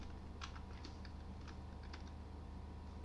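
Soft, quiet clicking of keys being typed on a computer keyboard while entering spreadsheet formulas, a few scattered taps over a low background hum with no talking.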